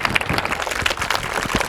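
A ceremony audience claps to welcome a speaker, a dense patter of many hands at steady volume throughout the short burst.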